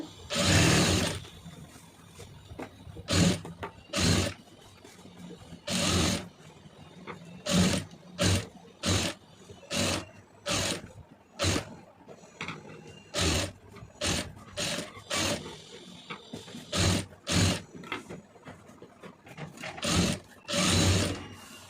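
A sewing machine stitches a blouse neckline in repeated short whirring bursts separated by brief pauses, close and mechanical, with no voices over it.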